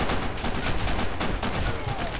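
Rapid gunfire from a Counter-Strike style bomb-mode match, a dense continuous burst of shots lasting a couple of seconds, loud and close with no talk over it.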